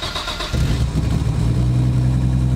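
An RB26-powered Datsun 240Z starts with a brief cranking whir, then fires and settles into a deep, steady idle close by.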